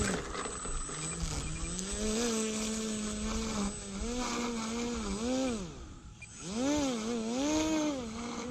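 A Tower Hobbies Cherokee electric RC plane on its maiden flight, its propeller motor whining steadily and rising and falling in pitch as the throttle changes, fairly close and continuous, with outdoor background noise.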